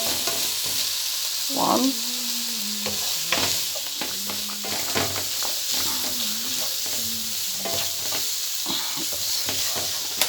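Pumpkin and vegetables fry in a pan under a constant loud sizzle while a utensil scrapes and stirs in irregular strokes, close up, with a brief word spoken once.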